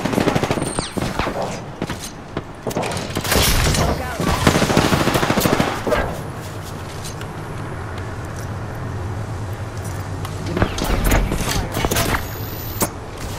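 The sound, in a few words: gunfire in the video game Apex Legends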